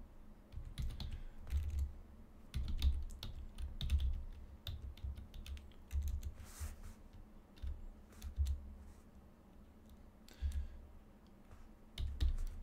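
Typing on a computer keyboard in a Linux virtual machine setup: irregular, fairly close keystroke clicks come in quick bursts and short pauses throughout, with no talking.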